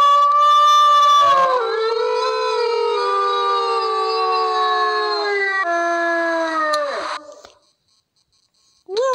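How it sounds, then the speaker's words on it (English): A wolf howls in the WolfQuest video game, one long sustained wavering howl rising and falling in pitch with rich harmonics, loud and close, ending abruptly before a brief silence and the start of another howl. "Now we shall thank the fox by howling."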